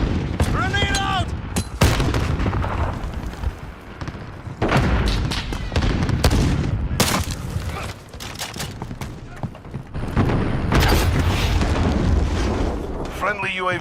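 Grenade blast and gunfire in Modern Warfare 2019 multiplayer, a dense barrage of loud booms and sharp bursts that repeatedly punch through, with shouted voices in between.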